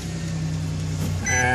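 A car engine cranks and catches after a check-engine-light reset, settling into a steady idle with a low rumbling hum near the end.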